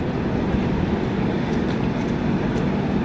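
A loud, steady rumble of a train pulling into platform four at Lalkuan station, dense low clatter filling the whole stretch with no voices.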